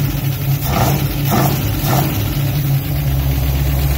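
A car engine fitted with an MSD distributor runs steadily at idle, a loud continuous low hum with a few faint rhythmic pulses, with no voices.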